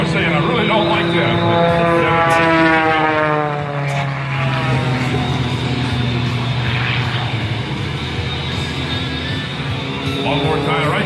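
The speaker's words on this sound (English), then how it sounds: "You can hear the propeller." An aerobatic propeller airplane drones loudly and steadily at an air show, its engine pitch sweeping up and down as it maneuvers, with a voice speaking underneath.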